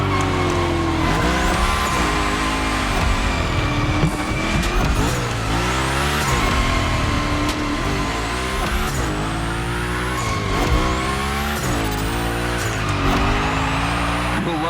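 A car slides through gymkhana training in the racing game The Crew Motorfest, its engine revving loud and constant while tires squeal in repeated long skids.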